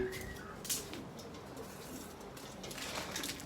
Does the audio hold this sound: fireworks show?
no